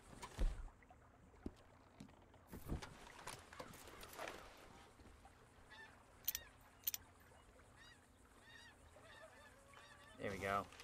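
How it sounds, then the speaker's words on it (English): A Canada goose honks a few times in the video game Red Dead Redemption II, faint to moderate nasal calls scattered over quiet outdoor ambience with water sounds and occasional thumps. "There we go. Canada Goose."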